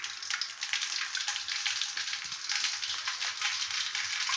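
Mustard seeds splutter and pop in hot oil for carrot rice, a steady crackling hiss that runs throughout with dense, irregular pops, close and fairly loud.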